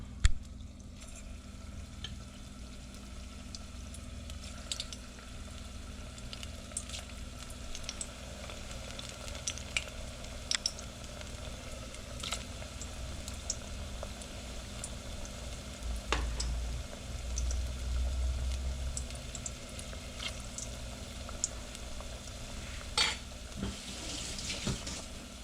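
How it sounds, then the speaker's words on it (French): Salmon croquettes frying in hot oil, a steady soft sizzle and crackle running throughout with occasional small pops and a brief bubbling swell partway through, fairly quiet and close. "les plonger dans l'huile."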